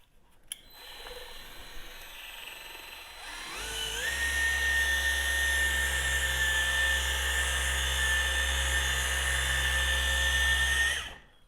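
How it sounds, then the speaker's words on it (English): Rotary polisher working out small scratch marks on a Tesla wheel barrel: a brief click, then a high-pitched whine that spins up and holds steady for about seven seconds before cutting off, close and alone. "A couple of these smaller scratch marks we're actually just going to polish out."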